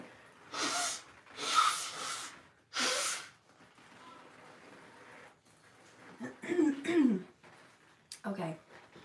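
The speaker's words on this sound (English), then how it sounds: "I'm just gonna blow my nose again." A person blows their nose, several short forceful nasal blasts in a row, then a few snorts and sniffs, close and fairly loud.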